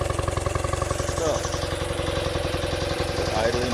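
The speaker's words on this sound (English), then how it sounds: "we're idling right now" A 1976 BMW R90S motorcycle engine idles cold with a steady low, rapid pulsing throb, close and continuous, with a voice talking over it.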